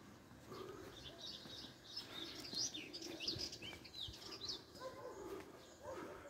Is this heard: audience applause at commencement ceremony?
no